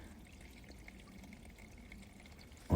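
A small brook flows among icicles on snowy, icy rocks, giving a soft, steady trickle and gurgle close by. A brief loud knock sounds at the very end.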